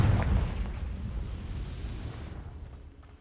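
A fire spell exploding in Hogwarts Legacy, cast against a huge spider: one loud, deep booming blast that rumbles on and fades slowly over a few seconds, with no voices.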